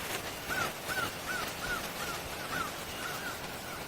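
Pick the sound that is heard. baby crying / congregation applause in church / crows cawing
crows cawing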